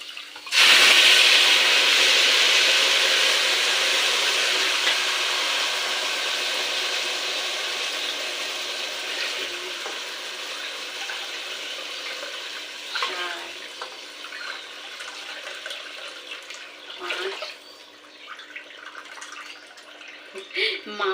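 Water is poured from a bowl onto rice, starting with a loud rushing splash that gradually tapers into softer trickles and sloshes, with a few later splashes and light handling noises.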